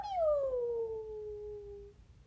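A French bulldog lets out one long, drawn-out howl that starts high and slowly slides lower, close and clear, fading out after about two seconds with no talking over it.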